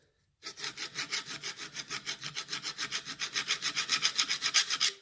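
A file rasps against a ship auger drill bit in a fast, steady rhythm of many short strokes, removing burrs from its edges, close up and with no talking.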